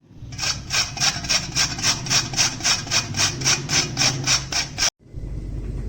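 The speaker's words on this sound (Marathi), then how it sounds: "ह्या किसणीच्या साहाय्याने ते आता मी किसून घेणार आहे" Peeled carrots rubbed over a hand grater for carrot halwa, about a dozen even rasping strokes in a quick steady rhythm, loud and close, ending abruptly before a quieter background.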